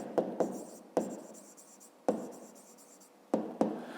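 A pen scratches out a fifth-grade math solution on paper in short bursts, with several sharp taps and strokes separated by pauses, close and fairly quiet, with no talking.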